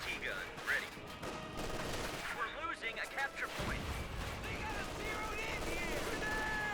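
DShK heavy machine gun fire from Company of Heroes 2 rattles in bursts amid a busy battle soundscape, with other explosions and a voice talking over the mix.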